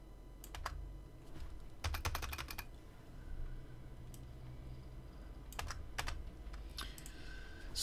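A computer keyboard clatters in short bursts of quick keystrokes with pauses between, close and fairly soft against a quiet room hum, with no talking.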